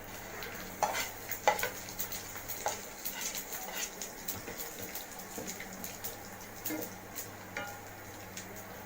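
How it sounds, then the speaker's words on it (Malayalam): Whole spices such as cinnamon, cumin, cloves and cardamom crackle in hot fat in a pan, with light sizzling under repeated scraping stirs and occasional metal clinks, steady and close with no talk. "ഈ മസാലകളും ചേർത്ത് നന്നായിട്ട് ഫ്രൈ ചെയ്തെടുക്കാം."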